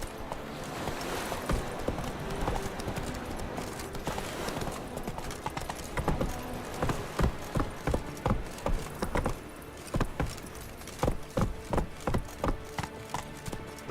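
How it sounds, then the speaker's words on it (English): Horse hooves clip-clop in The Witcher 3 video game, rhythmic hoofbeats that start sparse, then quicken into a steady trot and slow again, close and clear over faint background sound. "Whoa there, Roach"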